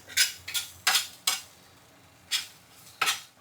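A spoon or spatula clinks and scrapes sharply against a flat griddle in short bursts as fried chicken is tossed into shredded parotta, a few quick strokes, a pause, then more, close and fairly quiet.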